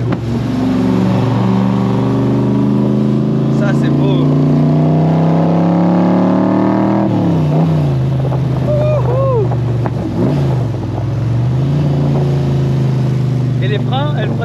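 A Cobra's engine and exhaust accelerate close by, the harmonic pitch climbing steadily, dipping at a gear change, then rising again under a constant loud drone with faint wind. Voices speak over it at times.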